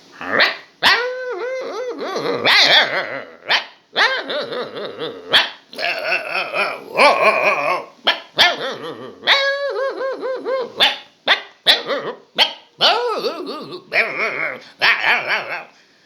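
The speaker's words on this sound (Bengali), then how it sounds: "বাচ্চা থেকে বুড়ো কুকুর ডাকছে।" Several dogs bark and yelp in repeated bursts, some high-pitched like puppies, with occasional growls, fairly close and loud throughout.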